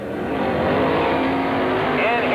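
Dirt modified race cars roar out of a turn at Penn Can Speedway, engines revving loud and close in a dense, overlapping snarl, with an announcer's voice running over the noise.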